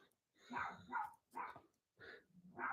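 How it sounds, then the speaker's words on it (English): Pet dogs at home barking excitedly, four or five quick yapping bursts in an uneven rhythm, fairly faint and close. "My dogs. Look, they just got up and outside too"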